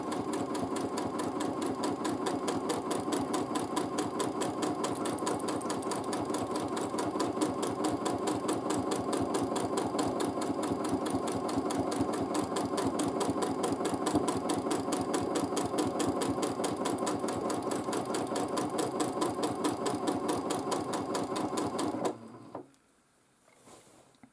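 A sewing machine stitches free motion quilting swirls in a steady, rapid mechanical chatter, close and continuous for over twenty seconds before stopping abruptly, with faint handling noises afterward.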